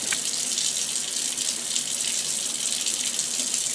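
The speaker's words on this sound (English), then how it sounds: "just give them a quick rinse" Tap water runs steadily over fresh kale leaves being rinsed at a kitchen sink, a continuous close hiss and splash with no talking.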